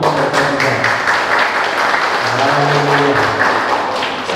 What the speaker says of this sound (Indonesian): tepukan untuk mereka juga.